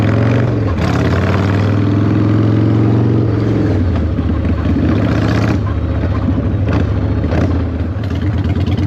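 A 1996 Harley-Davidson FLSTF Fat Boy motorcycle is ridden, its loud, deep engine rumble steady throughout with a shift in pitch as it accelerates, plus wind roar, and no talk over it.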